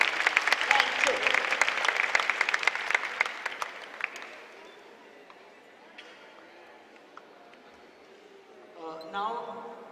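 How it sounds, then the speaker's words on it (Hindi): Children and guests at a birthday celebration for a cancer patients aid association applaud loudly, dense clapping for about four seconds that fades away, followed by quiet and a brief voice near the end. "एक दफा और विवेक जी के लिए तालियां मेरी तरफ से।"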